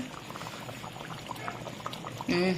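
Elephant foot yam and meat boiling in a pot on high flame, a steady bubbling simmer that runs throughout and swells louder near the end.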